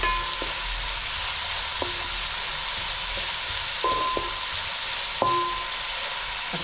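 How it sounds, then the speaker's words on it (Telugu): Onions sizzle steadily in hot oil for a village-style broiler chicken curry, a loud continuous frying hiss broken by a few brief clinks of a stirring utensil, with no talking. "కొంచెం దోరగా వేపుకోవాలమ్మా నూనె పైన"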